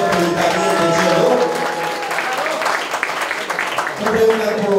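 A crowd at a live public event applauds steadily throughout, with a voice talking over the clapping.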